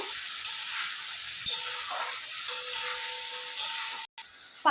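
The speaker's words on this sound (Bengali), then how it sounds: "এটা না ভাজা হবে ততক্ষণ এটা ভালো করে আমি নাড়তে থাকবো" A paste of mustard, ginger, garlic and onion sizzles steadily in a hot pan for a fish curry, with a constant frying hiss broken by occasional scraping knocks of the stirring spoon.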